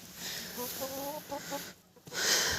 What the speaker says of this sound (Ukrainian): Ось австралорпа, курочка чорненька.